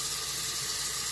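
Water poured from a tap into a pot being set up as a double boiler in a home kitchen, a steady close hiss and splash running unbroken throughout.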